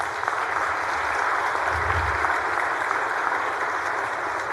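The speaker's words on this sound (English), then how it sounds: "if we could please give them a round of applause." Round of applause on the Texas Senate floor, a steady even wash of many hands clapping in a large chamber, sustained without breaks.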